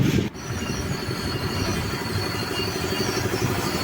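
Train wheels rolling steadily on rails with a constant low rumble and faint high squeal, heard from inside a carriage on a passenger train journey toward Kayamkulam in Kerala, loud and unbroken after a brief dip at the start.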